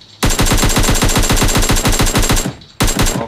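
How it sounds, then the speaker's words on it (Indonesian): Automatic gunfire in PUBG Mobile on the snowy Vikendi map. One loud, close burst of rapid shots runs for about two seconds, then a second burst starts after a short pause. "Kita tembak dulu nih."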